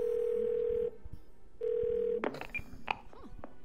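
A telephone dial tone sounds in the video game Twelve Minutes: a steady, moderately loud hum that stops and then returns. It is followed by a few short dialing beeps and clicks.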